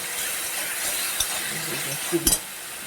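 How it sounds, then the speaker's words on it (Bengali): Spice paste with salt frying in oil in a pan gives a steady close hiss and sizzle, with a few soft scraping knocks from stirring. "দেখেন মশলা থেকে তেল ছাড়ছে মোটামুটি মশলাটা ভাজা হয়ে গেছে"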